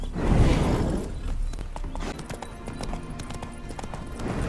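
Horse hooves clip-clopping in The Witcher 3: Wild Hunt, a close, steady sequence of hoof beats that follows a louder rumbling opening, with no talk over it.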